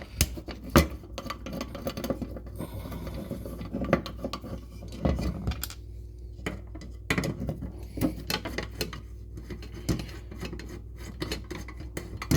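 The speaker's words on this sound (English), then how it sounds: "I'm trying to keep these screws separate from the rest of them." Small screws from a Honda ECU are picked up and sorted by hand on a workbench, making scattered light metallic clicks, taps and rattles close by at an uneven pace, with no talking.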